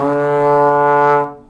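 A trombone sounds a single sustained note pitched too low, a full buzzy brass tone lasting just over a second before it cuts off, played alone.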